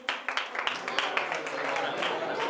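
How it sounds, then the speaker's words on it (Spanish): Applause from a conference audience during a group game, scattered clapping building to a steady patter, mixed with voices talking over it. "Aplausos para el ariete."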